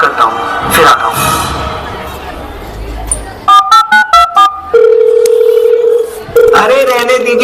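A telephone rings unanswered during a school play on Silver Oak Public School's Foundation Day, a series of loud repeated tones in short bursts followed by a long steady ringing tone, with stage chatter and voices before it.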